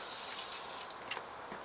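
Water spraying while rinsing cleaned engine parts for a Morris Minor turbo conversion, a steady hissing spray that drops off partway through, faint and alone with small splashes after.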